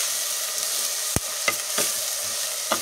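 Country chicken gravy curry is stirred in a pan over a soft continuous sizzle. A few sharp scrapes and knocks of the spoon against the pan are heard, and no one talks.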